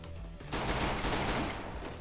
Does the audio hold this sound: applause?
no